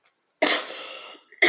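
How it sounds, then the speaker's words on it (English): A single close, harsh cough bursts out after a brief silence, followed by the start of another. "I will be coughing a lot."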